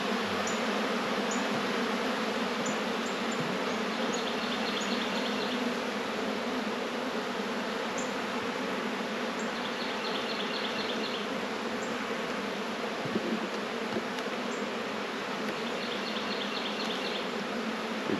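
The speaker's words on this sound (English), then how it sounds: "Ooh, the bees are upset." A dense, steady drone of many agitated honeybees buzzing around an open hive, continuous and close, with occasional faint higher clicks over the hum.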